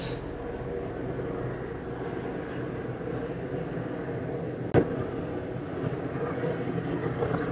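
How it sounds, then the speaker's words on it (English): An airplane passes overhead, heard as a steady, moderate low rumble that persists throughout, with a single sharp click partway through. "there was an airplane."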